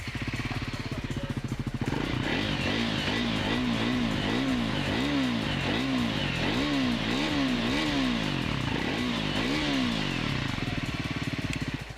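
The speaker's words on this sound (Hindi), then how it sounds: "Let's hear the exhaust of this Scrambler 400X." Triumph Scrambler 400X single-cylinder exhaust heard close up, idling briefly and then revved repeatedly in a rhythmic rise-and-fall sequence of sharp throttle blips, loud and alone.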